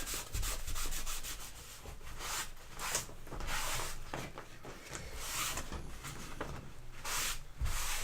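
A cloth rubs excess dye off a World War 1 helmet in rough, uneven strokes that swell and fade in irregular bursts. The rubbing is close and fairly quiet, with no voices.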